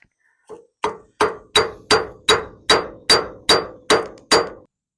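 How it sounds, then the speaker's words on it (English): A hammer pounds a socket to knock loose a trailer hub, about eleven sharp metallic blows in a steady, evenly spaced rhythm, loud and close, with no talking. "So what I'm gonna do is put this right here and hammer away."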